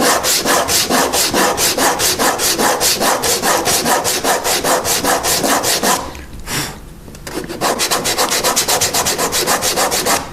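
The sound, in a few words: hand sanding a wooden chess knight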